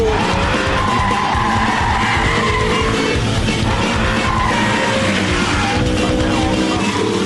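An Audi R8 slides through a slalom with stability control off, tyres skidding and scrubbing loudly under a roaring engine, constant and close throughout.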